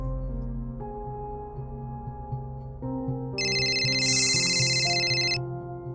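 Phone ringtone in a domestic drama scene, a repeating electronic melody of bright tones that swells louder midway over soft background music, with no talking.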